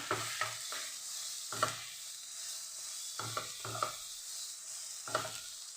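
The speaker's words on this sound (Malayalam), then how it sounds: "എന്നിട്ട് ഇളക്കുക." Food being stirred in a frying pan over a steady sizzle, with seven or so short scraping strokes in uneven clusters, close and clear, no voices.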